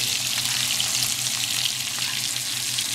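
A sirloin steak fries in a pan while being basted with a garlic clove, giving a bright, steady, close sizzle that runs unbroken throughout.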